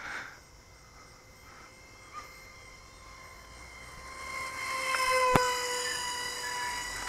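A Volantex Ranger 600 RC plane's electric motor running at half throttle on its maiden flight. A faint, distant whine rises and falls over quiet outdoor background.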